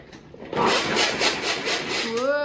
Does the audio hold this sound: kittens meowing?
no